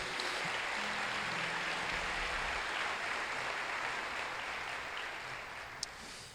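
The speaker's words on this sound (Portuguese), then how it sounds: "Você pode aplaudir o Senhor Jesus?" A dense, continuous wash of applause fills a church worship gathering, holding steady and then easing slightly toward the end, with one brief sharp tap near the close.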